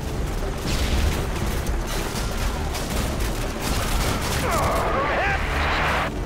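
Dense, sustained L-86 machine gun fire and explosions from a firefight in the Call of Duty: Modern Warfare 2 mission Loose Ends, loud and continuous with heavy bursts throughout.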